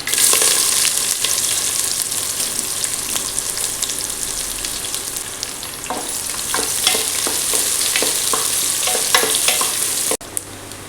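Onions frying in oil with mustard seeds, bay leaf, cinnamon and cloves for a village-style palak chicken curry, a steady loud sizzle with repeated scraping stirs throughout, no talking.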